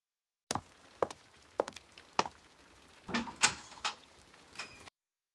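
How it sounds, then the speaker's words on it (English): A key works in a cell door lock: a run of sharp, separate metallic clicks, then a clustered rattle and scrape of the mechanism, close and fairly quiet with no voices. "A key in the door."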